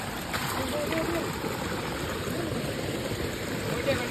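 Water from a stream near the Kadapara waterfalls flows steadily as a close, broad rushing wash that holds even throughout, with a few brief faint sounds over it.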